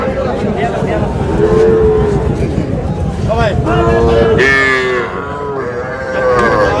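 Young Sahiwal bull calves low and moo repeatedly at a busy cattle market in Comilla, the calls rising over steady crowd chatter and background murmur.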